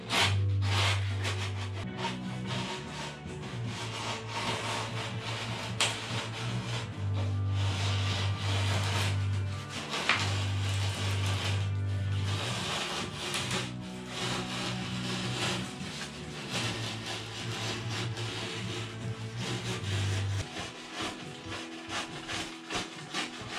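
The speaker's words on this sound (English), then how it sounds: "I usually use a utensil knife with a new blade just to cut off the first part of this, getting it down to more or less the shape." A utility knife with a new blade cuts a windsurf board down to rough shape, giving a steady, close scraping and rubbing that runs almost continuously with no talking.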